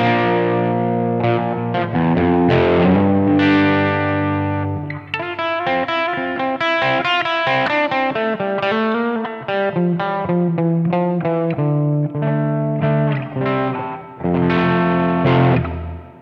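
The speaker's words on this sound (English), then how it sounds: "here's my slightly dirty sound without the Fuzz" An electric guitar with light overdrive and no fuzz plays a chordal passage for several seconds, slightly gritty and ringing, with no voices.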